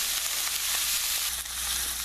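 Onions sizzle loudly in a hot pan while being stirred, a dense, steady frying hiss with faint scraping of the stirring throughout and no voices.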